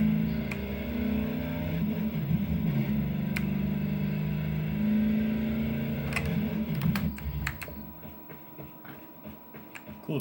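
A truck engine in a video game drones steadily with a low, revving hum, joined by scattered clicks, then drops quieter toward the end.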